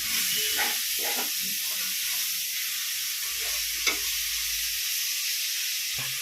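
Prawns tossed with ginger, coriander, curry leaves and mint in a hot pan give a steady close hiss and sizzle, broken by a few soft stirring knocks.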